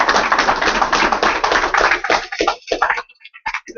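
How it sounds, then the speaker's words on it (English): A crowd claps loudly and densely, then the applause thins out into a few scattered claps before stopping. "Please give us a round of applause."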